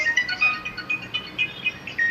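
A phone ringtone plays a repeating high electronic melody, steady and moderately loud, with no talking over it.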